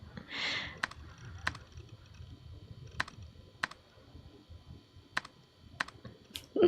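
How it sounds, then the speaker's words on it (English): Keyboard typing in the Chaos;Head Noah video game comes as sparse, crisp key clicks at an uneven pace, about one every half second, fairly quiet, with a brief soft burst of other game sound near the start. "Keyboard noises."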